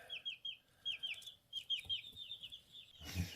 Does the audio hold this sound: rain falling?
no